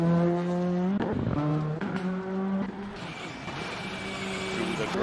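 A rally car on a stage of the Rajd Rzeszowski, Eastern European Rally Championship round 4, drives through a gravel section and back onto tarmac, its engine loud and close, revving through gear changes with rising and falling pitch, gravel hiss behind it.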